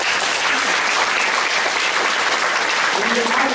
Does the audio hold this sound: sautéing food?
no